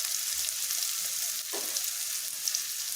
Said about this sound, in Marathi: कांदा टाकून झालेला आहे आपला. छानपैकी फ्राय करून घेऊया आपण त्याला.